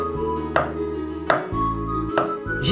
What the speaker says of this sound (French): Donc nous allons couper, de manière à obtenir des toutes petites lamelles